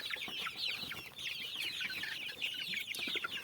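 Dominant breed chicks on their first outing outdoors give a dense, continuous chorus of high cheeping and soft clucks, close and steady throughout.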